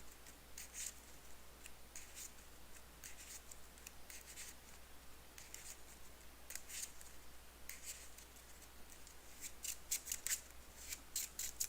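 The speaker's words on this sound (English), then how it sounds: "then we'll shuffle our deck" A deck of cards for a tabletop card game is shuffled up close, producing repeated soft, papery riffles and scraping flicks in irregular bursts that grow busier toward the end, with no talking.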